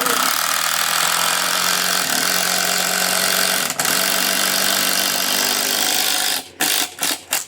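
A 12 volt Hercules impact driver from Harbor Freight drives a screw into wood with a loud, rapid hammering buzz held for about six seconds, then stops into a few short clattering knocks.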